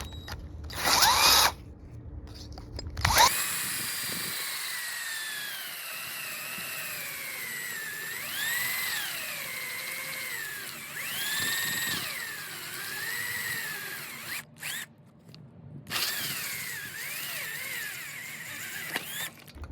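A 1.5-inch hole saw drills tweeter holes into homemade speaker templates during a 2001 Saab 9-3 audio upgrade, a loud whining power drill that starts, pauses and rises and falls in pitch over several long cuts, with no talk.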